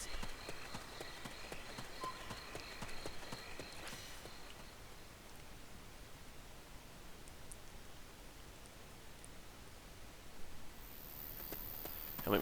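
Faint rhythmic footsteps in Metal Gear Solid: Peace Walker, soft repeated steps under a low game hiss, fairly distant and quiet, no talk.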